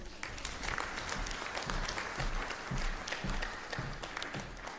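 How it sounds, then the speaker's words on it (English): Applause for graduates at a University of London International Programs graduation ceremony, steady and continuous clapping from an audience throughout, moderately quiet and fairly distant. "Let us applaud the graduates, please."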